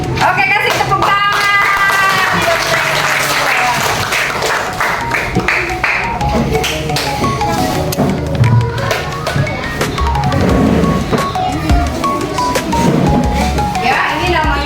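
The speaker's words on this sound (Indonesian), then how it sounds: "Oke, kasih tepuk tangan." A class of schoolchildren applauding during a coding and artificial intelligence lesson, loud clapping lasting through the clip amid children's voices and chatter.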